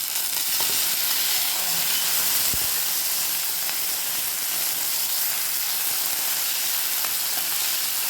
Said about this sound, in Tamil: ஒரு 2 நிமிஷம் வெங்காயத்தை வதக்கிக்கோங்க. தக்காளியும் சேர்த்து இன்னொரு 2 நிமிஷம் வதக்கிக்கலாம்.